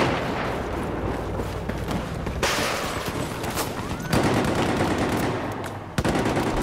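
Dense automatic gunfire in Battlefield 4 rattles almost continuously for several seconds, loud and close, mixed with booming battle noise and a steady background roar.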